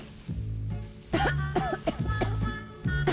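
A person coughs several times in short rough bursts, close by and fairly loud, in a home setting.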